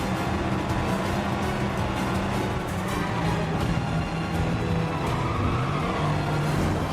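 Cars rush past in a video game chase in 007: First Light, a dense, continuous roar of engines and traffic with tire skids, steady and loud throughout.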